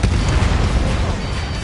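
A heavy, continuous explosion rumbles as missile silos are destroyed in the Ace Combat 7 video game, loud and deep throughout with a dense roaring rush and no speech.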